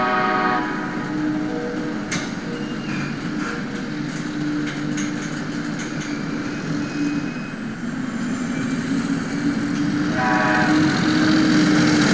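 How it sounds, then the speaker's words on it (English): A freight train rumbles steadily past at close range at the Connellsville, Pennsylvania Amtrak station, a continuous low mechanical roar with faint metallic ringing and no voices. "The freight train is moving."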